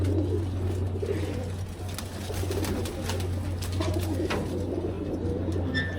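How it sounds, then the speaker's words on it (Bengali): Silver pigeons cooing in a loft among a breeder's large collection, steady soft coos over a constant low hum, with a few distant chirps throughout. "সিলভার কবুতর"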